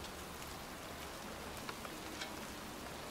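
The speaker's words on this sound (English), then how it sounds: "standing in a cemetery, pouring rain" Pouring rain in a cemetery in the video game Heavy Rain Remastered, a steady dense hiss of rainfall with a few faint drop ticks, continuous and without talk.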